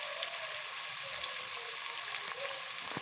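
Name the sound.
sautéing onions with a ladle for potato curry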